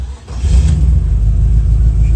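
A 1947 Ford Super Deluxe convertible with a Chevy 350 small block, headers and dual exhaust catches and settles into a loud, deep engine rumble after a brief crank at the start.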